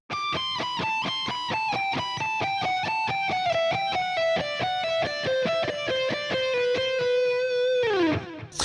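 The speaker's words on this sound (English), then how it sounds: "putting this all together, this whole scale run would sound like this" A fast descending electric guitar scale run, notes picked evenly one after another with a bright effected tone, ending in a quick slide down.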